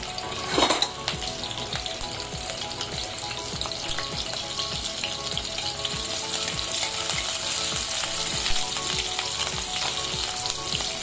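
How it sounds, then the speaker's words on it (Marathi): Steady, loud sizzling of garlic and green chillies frying in hot oil, continuous throughout, with occasional stirring scrapes and no voices. "फक्त मिरची आणि लसणावरती ह्याला फोडणी द्यायची।"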